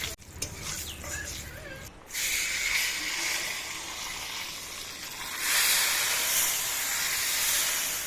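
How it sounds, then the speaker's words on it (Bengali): Dried red chillies and bay leaves sizzle in hot tempering oil for khichuri, a steady hissing spit that swells louder after a brief pause and runs on continuously, close by, with no talk. "খিচুড়ি সব সিদ্ধ হয়ে গেছে ফোড়ন দেবো শুকনো লঙ্কা তেজপাতা"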